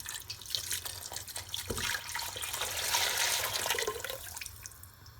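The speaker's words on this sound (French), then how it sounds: "Et là, je vais donc ajouter 2 litres d'eau." Two litres of water pour steadily into a cooking pot for chorba soup, a continuous splashing rush that swells and thins over a few seconds, close and fairly quiet.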